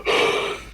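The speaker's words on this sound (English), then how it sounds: "Big yawn." One big yawn, heard as a single breathy, drawn-out inhale lasting under a second. It is close and clear, with no other sound around it.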